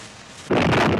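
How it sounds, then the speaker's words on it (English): Cartoon cannon fired by a villain, a sudden loud boom bursting in after a quiet hiss and rumbling on for about half a second. "It's just Tweeg firing his cannon at us."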